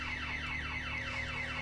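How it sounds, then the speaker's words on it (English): A looping electronic alarm from the video game The Occupation wails in steady repeated downward sweeps over a constant low hum, continuous and fairly faint, with no voices. "Steve, there's been an alarm set off"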